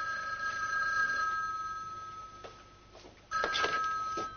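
A telephone ringing indoors, steady tonal ringing that fades slightly, pauses, then returns louder with a couple of soft knocks, no voices.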